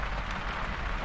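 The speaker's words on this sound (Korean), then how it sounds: "빗소리를 들어가면서" Rain falls in a steady, dense wash of patter at moderate level, continuous and even across the whole short stretch with no voices over it.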